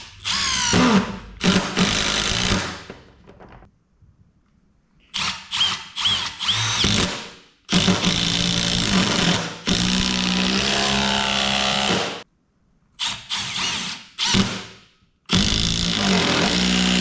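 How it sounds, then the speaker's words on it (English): A Milwaukee M12 cordless impact driver, model 3453-20, runs in mode 3, its most powerful mode, in a series of loud bursts, each a few seconds long with brief silent gaps between them. "And now into mode 3. This is the most powerful mode of the drill"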